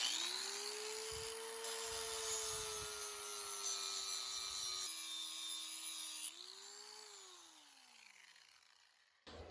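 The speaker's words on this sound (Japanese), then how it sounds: "刃がねだいぶボロボロになってるんで、サンダーで研いでから草刈りしていきます。" Worn brush cutter blade sharpened with a sander (angle grinder) outdoors on a field, a steady high whining grind held for several seconds, pitch sagging then spinning down, with scraping bursts early on.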